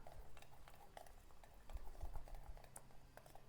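Ragi brownie batter being stirred and mixed in a bowl: soft, continuous wet scraping and sloshing with light spoon taps against the side, close and quiet, with no talking.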